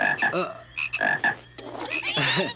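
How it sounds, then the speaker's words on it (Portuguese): Frog croaking in a children's science show, a series of rapid, pulsing croaks in close succession, loud and near, with no talk over them. "Quando uma rã coacha, o ar entra nas bolsas vocais"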